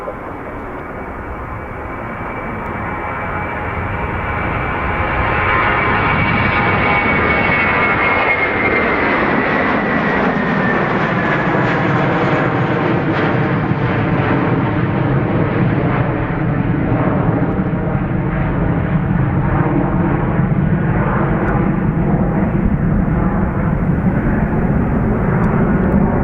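A fixed-wing airliner taking off from Dublin Airport, its engine roar building from a distant rumble into a loud, sustained jet thunder that holds steady as the plane climbs away, heard alone.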